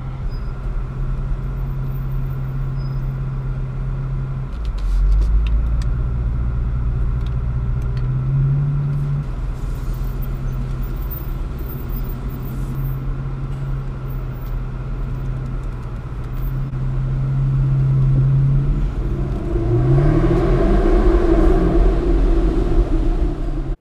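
An Aston Martin Vanquish's engine hums low and steady as it creeps up a car park ramp, pitch shifting slightly with gentle throttle, then rising into a louder rumble near the end.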